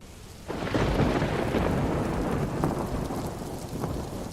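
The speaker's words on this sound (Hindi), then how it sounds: "रामू बारिश में छाता लगाए हुए घर पहुंचता है।" A thunderstorm with steady heavy rain and a loud rolling rumble of thunder that swells in after a quiet start and continues throughout, with no voices.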